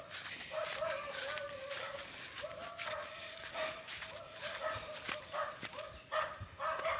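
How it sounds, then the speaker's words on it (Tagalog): A dog barks several times at a distance, irregular yaps carried over a steady high-pitched insect drone outdoors. "Narinig po niyo yung aso."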